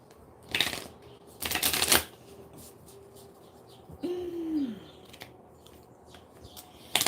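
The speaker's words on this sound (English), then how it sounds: "I'm gonna go ahead and pull some Moonology cards" Moonology oracle cards being shuffled and pulled: two quick riffling bursts of card shuffling, then a pause, a brief tonal squeak and a final short card flick, with no voices.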